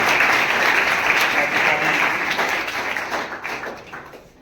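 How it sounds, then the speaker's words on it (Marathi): A school audience at a cultural event applauds loudly and steadily, many hands clapping in a dense wash that holds strong for several seconds and then fades away near the end. "एकदा जोरदार टाळ्या वाजवून आपण पवार"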